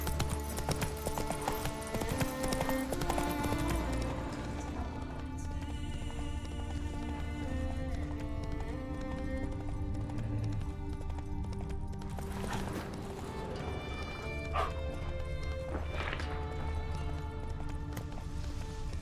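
Hooves of a galloping horse in The Witcher 3 pound in a steady rapid rhythm, mixed with game music and ambience for the whole stretch.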